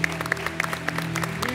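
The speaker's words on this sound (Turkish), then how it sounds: "büyük alkış buraya alalım" Studio audience applauding on a Turkish TV talk show, steady clapping throughout with a low steady hum and some voices underneath.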